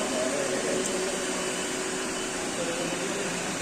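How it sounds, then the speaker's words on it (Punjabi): A hand dryer blowing in a bathroom gives a continuous, loud, even roar of rushing air that holds steady the whole time, close by with no break. "ਪਹਿਲੀ ਵਾਰੀ ਹੱਥ ਗਰਮ ਕਰਨ ਵਾਲੀ ਮਸ਼ੀਨ 'ਚ"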